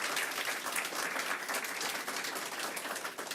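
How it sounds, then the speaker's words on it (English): Warm applause for healthcare workers at a press conference with Governor Hochul and Leader Jeffries, a dense, even wash of clapping filling the whole stretch. "So another round of applause for all of our healthcare workers here and across the state."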